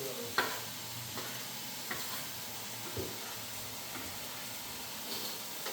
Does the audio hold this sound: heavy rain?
no